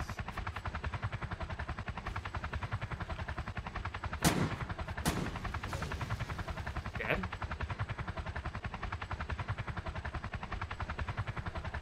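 Roblox Polybattle helicopter with a rapid rhythmic rotor chop running throughout, overlaid by a few loud bursts of gunfire in the middle, all fairly close.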